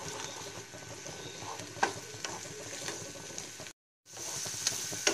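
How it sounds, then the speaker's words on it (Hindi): Chopped ginger, garlic and green chili frying in butter over a low flame, a soft continuous sizzle with occasional stirring clicks, briefly cut to silence before the frying resumes. "अब हम इसमें अदरक, लहसुन और हरी मिर्ची डालेंगे जो हमने चॉप कर लिया था, और 15 से 20 सेकंड तक हम इसे भून लेंगे"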